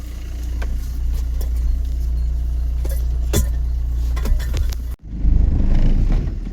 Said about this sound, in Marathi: चाललोय आपण आता बाहेर काढायला गाडी. आता गाडी चिखलली, निघते का नाही काय माहिती